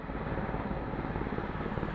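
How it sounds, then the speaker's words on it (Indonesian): Helicopter dropping water over a burning landfill during firefighting, its broad rotor and engine roar steady and loud throughout, with no voices. "Satgas BNPB menurunkan helikopter waterbombing untuk mempercepat pemadaman."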